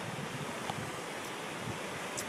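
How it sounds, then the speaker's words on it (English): A nearby waterfall roars as a steady, even wash of rushing water, heard while cruising past, with faint wind buffeting the microphone. "So we're cruising by the waterfall here now, as you can see behind me."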